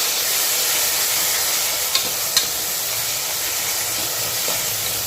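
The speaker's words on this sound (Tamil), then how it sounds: "இப்போ இதில் தக்காளியும் பச்சை சேர்த்துக்கலாம் சேர்த்து இதையும் நல்லா குலைவாக வதக்கி விட்டுக்கலாம்" Tomatoes and green chillies sauté in a pan for mutton curry, giving a steady crackling sizzle with a couple of sharp spoon scrapes against the metal, no voices.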